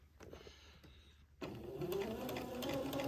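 A sewing machine stitches a seam in fabric, starting with a few quiet stitches and then breaking into a louder steady rapid whir of needle strokes that lasts to the end.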